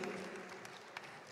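An audience at an opening ceremony of a meeting in Yogyakarta applauds in a steady, dense wash of clapping that stays moderately loud through the brief moment.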